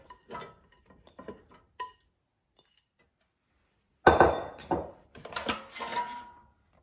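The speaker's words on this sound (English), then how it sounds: "And I will put potatoes in the air fryer." Diced potatoes go into an air fryer basket: a few soft clinks and taps at first, then after a quiet gap a louder clatter of cubes dropping and rattling into the metal basket, close by.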